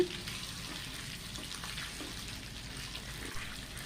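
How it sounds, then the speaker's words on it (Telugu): Eggs fry in a pan with a soft, continuous sizzle and faint crackling, quiet and close, with occasional light stirring taps. "గుడ్లు కూడా చక్కగా ఫ్రై అవ్వాలండి కలర్ వచ్చే వరకు"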